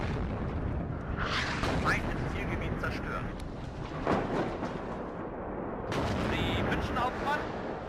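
Artillery fire in the WARNO wargame: deep, rumbling blasts and crackling impacts rolling on through the battle mix, with louder bursts around the middle and near the end, under someone talking.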